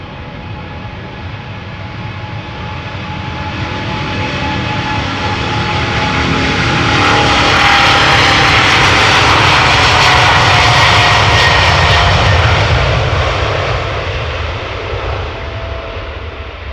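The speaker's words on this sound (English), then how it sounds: "It is a Boeing 777-200 with destination Toronto, Canada." KLM Boeing 777-200 airliner, about 18 years old, at Amsterdam Schiphol Airport, its jet engines roaring loudly as it passes, building to a broad peak and then easing off, with no talking.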